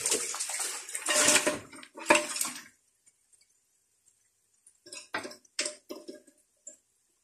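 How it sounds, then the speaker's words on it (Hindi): Oily yakhni meat broth for Kabuli pulao is poured through a strainer, giving two loud splashing gushes of liquid followed by a pause and then a scatter of short pours and drips. "देखो बहुत ही ऑयली हमारे यखनी तैयार है। हम इसको छानेंगे।"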